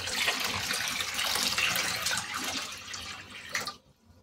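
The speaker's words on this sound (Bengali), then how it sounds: "ফ্রেশ জল দিয়ে দাও।" Fresh water pours steadily onto a container of live bloodworms, a dense close splashing rush that stops abruptly near the end.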